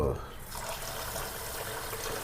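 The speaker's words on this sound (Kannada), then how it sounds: "2 ಗ್ಲಾಸ್ ತೊಗೊಂಡಿದ್ದೀನಿ ಅಕ್ಕಿ. ಇದು ನೀಟಾಗಿ ತೊಳಿತೀನಿ" Rice is washed in water with a soft, close swishing and trickling of water throughout, under faint background sound.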